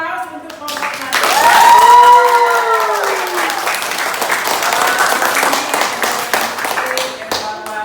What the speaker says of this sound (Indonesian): Ayo aplaus untuk kelompok 1.